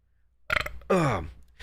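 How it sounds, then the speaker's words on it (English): A man lets out a single loud, close burp, a short guttural croak with a falling pitch, preceded by a brief breathy gulp and followed by quiet. "I leave you the gift of my burp"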